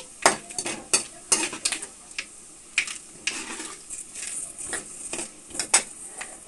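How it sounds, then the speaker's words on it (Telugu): Mustard seeds and cumin sizzle in hot oil in a kadai while a spoon stirs them, with close, irregular metallic scrapes and taps over a steady crackling hiss. "ఒకసారి కలుపుకోవాలి."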